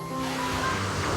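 Sea waves wash ashore at night in a steady, full roar of surf, close and continuous with no voices.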